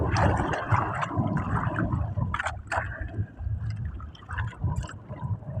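Big waves churn and slosh around a fishing boat on Manila Bay, a steady rough wash of water with gurgling and splashing bursts, close and continuous.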